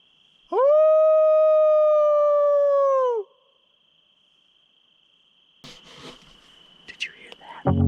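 A single long, clear howl rises and holds for about three seconds at night in Montana, followed by a faint steady insect drone and then soft rustling and handling noises.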